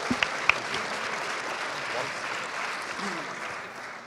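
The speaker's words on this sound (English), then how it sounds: "Round of applause, please." Audience at a startup pitch night investment summit gives a round of applause, broad steady clapping with a few sharp early claps and a shout, crowd murmur mixed in, fading slightly toward the end.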